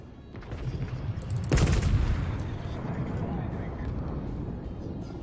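Naval guns fire HE shells in World of Warships, with a sharp, heavy salvo crack followed by a long rumbling decay, faint earlier thuds leading in, and players talking over the battle noise.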